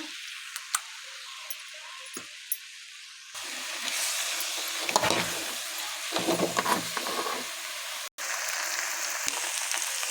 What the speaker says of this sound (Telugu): గుడ్డు బాగా వేగింది